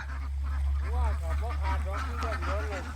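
Several laying ducks on a farm quack repeatedly in a noisy cluster over a constant low hum, close and fairly loud.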